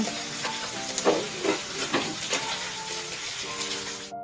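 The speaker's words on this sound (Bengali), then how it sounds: "গ্যাসের ফ্লেমটা আমি লো ফ্লেমে করে দিয়েছি লো ফ্লেমে ভেজে নেব" Lachha paratha frying in a pan on a low gas flame; a steady, soft sizzle and hiss with faint scraping stirs, close and continuous, with no talking, cutting off abruptly at the end.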